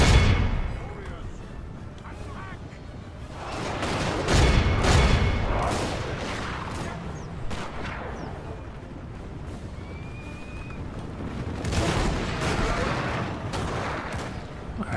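Battlefield din from the Steam & Steel Total War game: dense rumbling gunfire volleys and artillery booms mixed with horse sounds, continuous and loud throughout, with someone talking over it at times.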